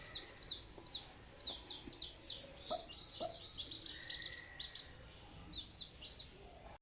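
Young chicks, hatched recently, chirp in high repeated peeps alongside occasional soft clucks from older birds, fairly close and faint, with a few brief knocks and thumps in the background.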